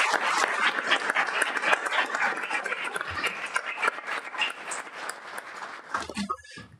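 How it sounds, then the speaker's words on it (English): An audience at a school board meeting applauding, a dense steady wash of clapping that carries on for several seconds before thinning out at the end. "So if you could join me in a round of applause for those two individuals, please."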